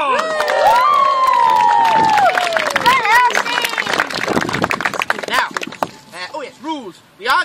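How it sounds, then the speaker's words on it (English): A loud outdoor audience at a Dracula play at Whitby Abbey cheers and claps together, with whistles and shouts rising over the noise before it breaks into scattered voices near the end. "A massive round of applause!"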